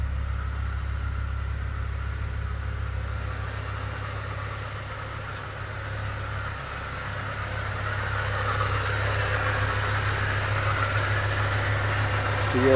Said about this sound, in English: the engine's quite happy running away there